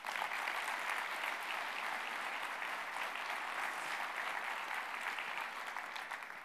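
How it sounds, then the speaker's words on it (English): Sustained applause from a large conference crowd at a PASS Summit keynote, an even wash of many clapping hands that holds steady for several seconds before easing slightly at the end. "Can you please give yourselves a huge round of applause?"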